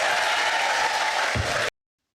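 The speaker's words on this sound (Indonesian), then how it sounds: "Pengikutnya ngapain tepuk-tepuk tangan?" Followers clapping in a courtroom, a steady wash of many hands applauding that stops abruptly.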